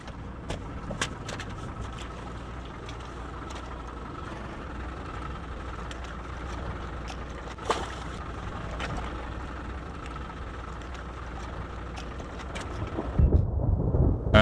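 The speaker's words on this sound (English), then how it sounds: "the next downpour has arrived" Continuous dull roar of heavy thunderstorm rain in the South African wild, with a low rumble underneath, a few faint crackles and one brief sharp burst, steady throughout.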